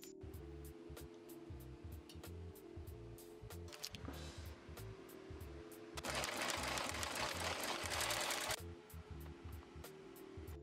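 A sewing machine stitches denim patches onto a tote bag in quiet, rapid bursts of needle clatter, with a louder, denser run of stitching near the end before it slows again.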